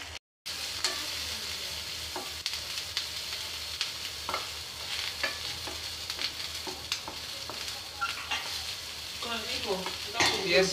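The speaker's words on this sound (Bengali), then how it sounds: "এখন তেলটা গরম দিব, পেঁয়াজগুলো ছেড়ে দিছি, দেখেন" Onions sizzle in a little hot oil in a frying pan. Soft crackling frying runs throughout, broken by repeated scraping stirs of a spatula against the pan.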